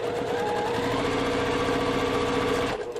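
Sewing machine stitching a quarter-inch seam along cotton fabric strips for a table runner, a close, steady rapid motor whir with fast needle chatter that runs continuously and then stops abruptly near the end.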